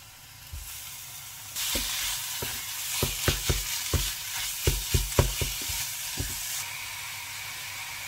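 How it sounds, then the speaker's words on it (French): Onions and minced meat frying in sunflower oil, a broad steady sizzle that swells suddenly, with repeated sharp scrapes and clatters of stirring punctuating it before the hiss drops back. "Je vais revenir d'abord l'oignon jusqu'à qu'il soit doré pour donner un bon goût"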